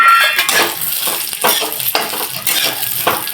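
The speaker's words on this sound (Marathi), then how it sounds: "थोडंसं तेल टाकून हा जो लसूण घेतलेला आहे शंभर ग्रॅम तो लसूण आपल्याला परतून घ्यायचा आहे" Garlic, 100 grams, being fried in a little oil in a pan, giving a loud steady sizzle with bursts of stirring and spoon scraping against the pan every half second or so, no voices.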